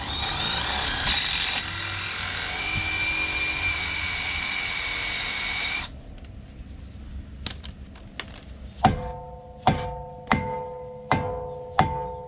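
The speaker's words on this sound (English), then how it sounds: "So I just drill them out and get rid of them" A power drill runs steadily at close range on a road-trip van, drilling out stuck bolts, then stops, followed by a series of sharp metallic taps and clinks as loose parts drop and get knocked about.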